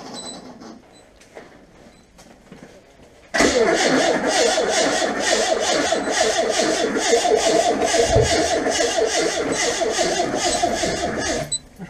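A Dodge van engine with a weak battery cranks and then catches, running steadily at a loud, even mid-pitched idle after a few faint sounds at the start.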